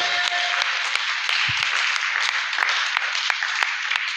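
A church congregation applauds together in a sustained, dense wash of clapping that stays steady and fairly loud throughout.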